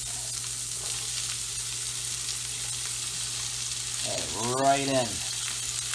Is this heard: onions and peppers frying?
yes